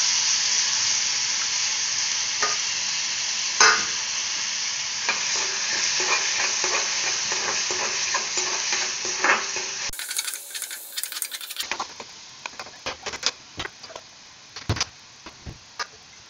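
Onion paste frying in a pan with fennel and cumin gives a bright, steady sizzle, with clinks and scrapes of a stirring spoon. Near the end the sizzle drops away, leaving scattered clattering stirs.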